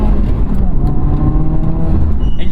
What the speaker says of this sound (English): if you're mashing the throttle, the turbo needs to spool up again